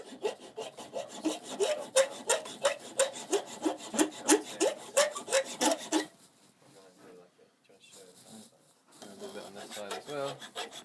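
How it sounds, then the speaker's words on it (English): Metal file rasping up and down along the edge of a homemade batarang in a steady, close, rhythmic series of strokes for about six seconds, then quieter scraping and handling noises. "just begin filing it down, moving up and down the batarang edge"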